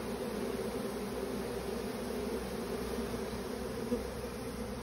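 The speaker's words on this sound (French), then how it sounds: "Voilà, essaim primaire, vu la taille et parce que je sais d'où il est sorti." A primary honeybee swarm buzzes in a dense, steady drone, loud and continuous with no pauses, thousands of wings blending into one sustained hum outdoors.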